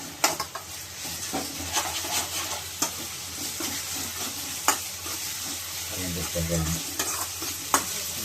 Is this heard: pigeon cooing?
no